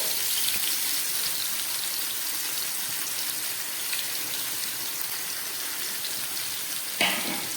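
Pomfret fish coated in spice masala fries in a pan over a low flame, giving a steady, dense sizzle that runs unbroken, close and fairly loud, with a brief clatter near the end.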